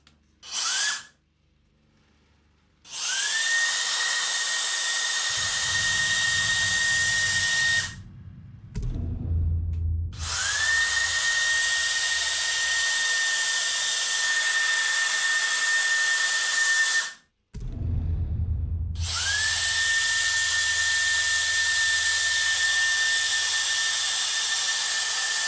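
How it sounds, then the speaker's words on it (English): An electric fan blower runs loud and steady with a high whining tone, cutting off briefly three times and spinning back up each time, with low thumps at the stops and restarts. "The benefits of having an electric fan blower."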